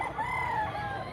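A gamecock rooster crows once in a long, drawn-out call at a fighting-cock market in Lipa, Batangas, with faint clucking and a low crowd murmur underneath.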